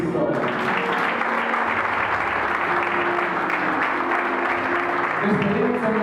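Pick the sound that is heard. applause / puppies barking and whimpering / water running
applause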